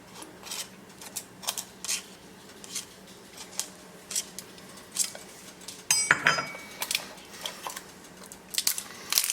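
Cracking and clicking of a cooked crab shell being pried open for its meat, a series of close, sharp snaps and scrapes, busiest around the middle, with no talking.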